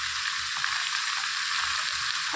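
Shredded cabbage with salt and turmeric fries in a pan, giving a loud, continuous close sizzle with faint scraping stirs underneath and no speech.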